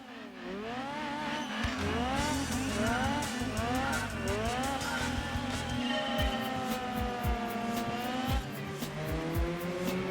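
A Mazda FC Vert race car in Gran Turismo 2 runs loud and steady, its engine note climbing and dropping through gear changes, with tire squeal and clicking impacts toward the end.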